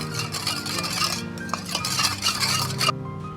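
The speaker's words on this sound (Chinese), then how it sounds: "放入玉米淀粉1勺，搅拌均匀" A spoon clinks steadily against a bowl while stirring a sauce of cornstarch with water or stock and cooking wine. The light, rapid ringing taps are close and continuous, then stop abruptly.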